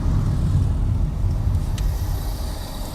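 A Toyota Supra drives past on a road, its steady low engine and tyre rumble close and fairly loud throughout, fading slightly toward the end.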